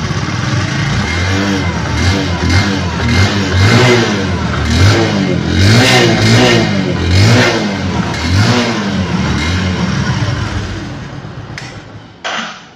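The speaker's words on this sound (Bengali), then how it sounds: "এবারে অ্যাক্সেলেটার দিয়ে সাউন্ডটা শুনুন" A car engine revved hard with the accelerator, loud and close, rising and falling in repeated surging waves of mid-pitched roar before easing off, with a brief knock at the end.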